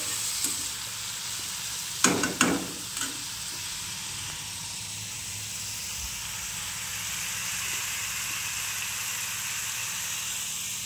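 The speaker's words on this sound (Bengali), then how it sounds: "এখানে সবজিগুলো ভাজছি" Vegetables fry in a pan for Maggi noodles, a steady sizzle and hiss with a few clattering stirs of a utensil near the start.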